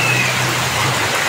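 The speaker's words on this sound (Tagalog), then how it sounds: "lakas ang ulan na." Heavy rain pours down in a dense, steady hiss with no pauses.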